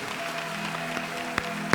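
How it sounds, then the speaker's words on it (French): A church congregation claps steadily, a dense even patter of applause at moderate distance with a couple of sharper claps near the end. "Applaudis très bien pour le Seigneur."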